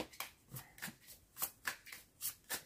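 Tarot cards are shuffled by hand in quick, close, papery riffles and soft slaps, about ten short bursts in an uneven rhythm, quiet, with no voices.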